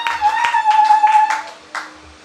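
Several sharp, spaced claps ring out in a reverberant church space, a congregation clapping for the Lord, with a sustained tone underneath that fades near the end.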